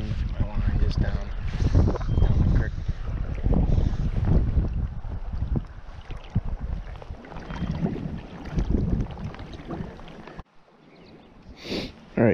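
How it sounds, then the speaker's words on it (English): Wind gusts outdoors beside Chest Creek in Pennsylvania, a loud, steady low roar and buffeting across the microphone that eases off briefly near the end. "This wind isn't helping. It's blowing my line just down."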